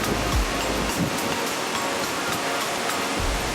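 A fast-flowing river near Suruli Falls and Kambam rushes steadily in a continuous broadband roar of water, loud and close, with no voices.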